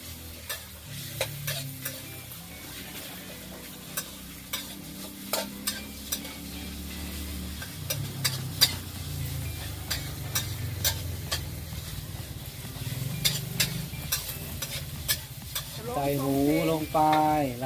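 Pork sizzles and stir-fries in a hot wok, with repeated sharp clangs of a spatula scraping and knocking the pan throughout, loud and close.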